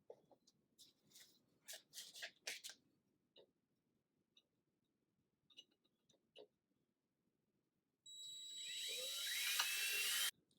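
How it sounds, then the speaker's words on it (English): A pilot hole is drilled into a metal bracket, the drill starting abruptly after a stretch of scattered ticks and taps, then whining loud and steady for about two seconds before stopping. "drill a pilot hole now"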